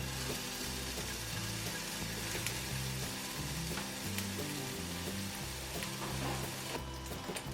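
Steady, loud sizzling of bacon frying in a pan, with crackles and pops throughout and no talking.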